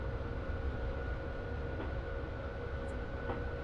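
A BR442 Talent 2 electric train runs on the Berlin–Leipzig line in Train Simulator, giving a steady, fairly quiet low rumble with a faint constant hum and no voices over it.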